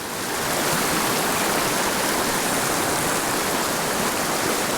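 Fast-flowing mountain creek, dense broadband rush of churning water filling the whole stretch at a constant loud level, close by and with no voices.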